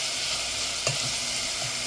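Onion and tomato for dal tadka being stirred in a pan, a soft continuous sizzle with a faint scrape of the spoon midway, quiet and alone.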